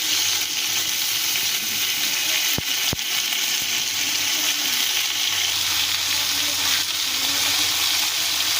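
Vegetables sauté in hot oil in a pan, a constant loud sizzle and hiss of frying punctuated by two sharp utensil taps early on, with no voices.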